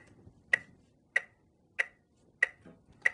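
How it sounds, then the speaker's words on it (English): Five sharp, evenly spaced ticks, about one every 0.6 seconds, crisp and clear against a quiet background. "Let's start out with the most basic drum sound, this metronome."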